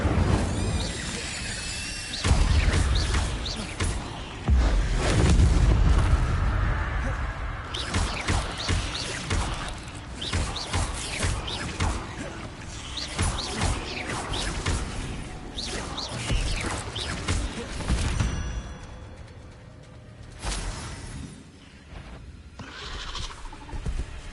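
Incendio fire spell cast in the Hogwarts Legacy game during a fight with spiders near a bridge, a loud burst amid dense, busy combat effects with crashes, whooshes and thuds, no talk.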